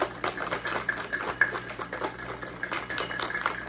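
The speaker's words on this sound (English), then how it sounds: "I'm gonna take my blender bottle, my white one, and I'm just gonna shake this up" A white blender bottle holding a protein shake with ice is shaken rapidly nearby, ice rattling and knocking against the plastic in a quick, steady rhythm throughout.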